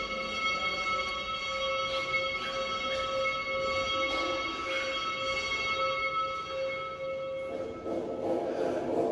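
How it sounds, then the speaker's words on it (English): A church bell rings at the place where Jesus was crucified, with sustained, overlapping tones that linger throughout, steady and moderately distant, with no voices. "Well, you can hear the bell."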